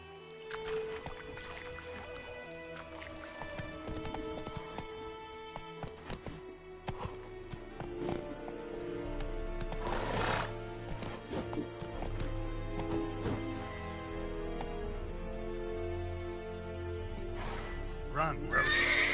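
Hooves of a horse galloping in a video game, a steady clip-clop rhythm running under game music and effects, with a rider's voice speaking over it.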